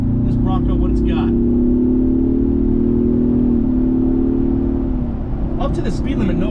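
A 2024 Ford Bronco Big Bend Sasquatch pulls onto a highway under light throttle, its engine a steady, loud in-cabin drone that rises slightly in pitch and then eases, with brief sounds of movement at the start and near the end.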